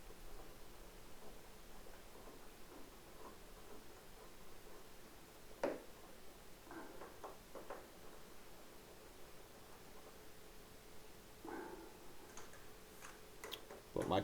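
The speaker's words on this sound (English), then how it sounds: "then I come back and I hit them with the torque wrench" A torque wrench clicks while tightening the front-wheel hex bolts on a Ducati 800SS/1000SS. A few sharp, isolated clicks come at wide intervals over a faint, steady background hiss in a quiet workshop.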